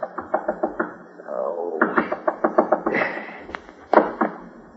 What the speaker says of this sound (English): But just when you settle down to hibernate, the knocking starts.